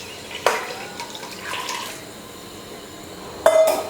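Water is poured into a pot of rice for biryani, one cup of water per cup of rice, in a couple of short splashing bursts with quiet gaps between, close and fairly soft.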